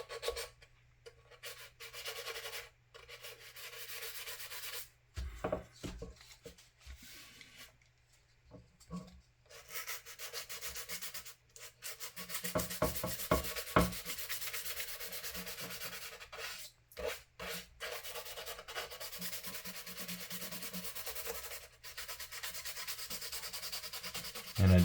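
Sandpaper rubbed over putty filler on a plastic 1/535 scale USS Iowa ship model: soft, close scratchy strokes in uneven bursts with short pauses, faint and alone.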